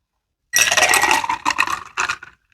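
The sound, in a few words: spiked strawberry lemonade poured into a glass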